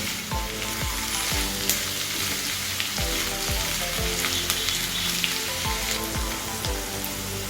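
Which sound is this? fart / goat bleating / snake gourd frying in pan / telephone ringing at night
snake gourd frying in pan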